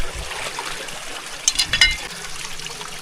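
Water trickles and splashes into a container in an automatic sprinkler setup, with a brief burst of brighter splashing in the middle over a steady outdoor hiss.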